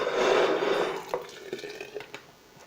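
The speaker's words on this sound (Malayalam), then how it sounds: "ഇനി നമുക്ക് ഒരു 2 ഗ്ലാസ് വെള്ളം കൂടി ഒഴിക്കാം" Water is poured into a homemade liquid hand-wash soap mixture, a brief splashing pour at first that fades into a few scattered drips and light clinks, fairly quiet and with no voices.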